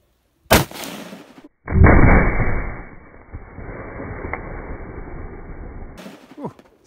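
Shots fired at a barrel: a sharp blast, then a second heavy boom that rumbles and fades over several seconds, followed by a faint sharp crack near the end.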